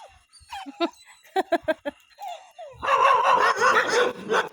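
A dog barks several times in short bursts with brief gaps, fairly close, before a louder rush of broadband noise takes over.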